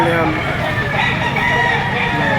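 Chickens at a poultry sale, pullets ready to breed with a rooster crowing, a dense steady mix of clucking and crowing throughout, close and loud, with people talking faintly in the background.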